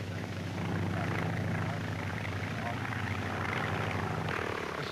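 An experimental aircraft with a single circular wing flies past. Its engine gives a steady, droning hum throughout, and a narrator's voice runs over it.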